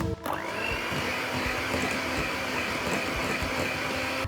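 An electric mixer hums steadily at medium speed while mixing cookie batter, a loud, continuous motor whine that holds even for about four seconds after a brief start.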